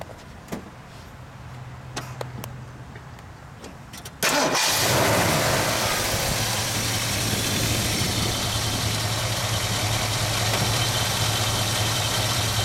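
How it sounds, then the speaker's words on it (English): A few quiet clicks, then a 1970 AMC Javelin SST engine cranks and catches with a loud roar, settling into a steady, smooth, rumbling idle that fills the rest. "Let's start her up while we're all right here"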